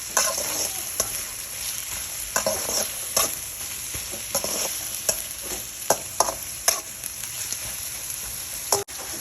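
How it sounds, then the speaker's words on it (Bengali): Chopped onions frying in oil in a pan, with a steady close sizzle and repeated scraping stirs of a spoon throughout, a sharp clack near the end. "এখানে এটাকে হালকা বাদামি রং করে করবো ভেজে।"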